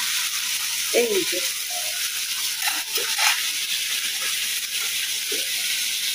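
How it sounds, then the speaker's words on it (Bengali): Bhetki fish pieces fry in a pan of hot oil in a home kitchen, a steady broadband sizzle running throughout while someone talks over it. "আগে একটু ভেজে দিতেছি"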